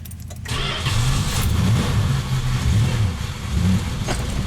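An old car with an unhappy transmission starts up and its engine revs steadily as it pulls away, a loud continuous low rumble after a brief quiet start.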